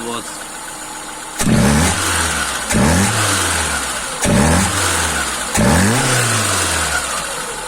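A Moskvich car engine with a tuned Solex carburetor revs in four sharp bursts, each climbing quickly then settling back to idle, loud and close, with someone talking between.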